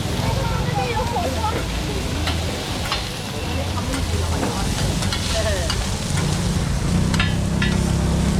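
Eggs sizzling and frying for pad thai on a hot pan at a Thai market stall, a dense steady crackle with scraping stir strokes, close and loud under busy market noise.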